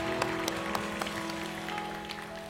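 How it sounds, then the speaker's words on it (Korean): Congregation applause at a Sunday church service, steady clapping of moderate loudness throughout with a few sharper claps standing out, no voices over it. "하나님께 영광의 박수, 감사의 박수 올려드리겠습니다."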